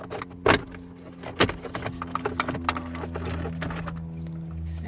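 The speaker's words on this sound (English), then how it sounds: "The first thing you do is just pop out the cover around the shifter," Plastic shifter cover trim being popped out of the console of a 2015 Toyota Prius: a few sharp snapping clicks near the start, followed by lighter rattles and handling noises over a steady background hum.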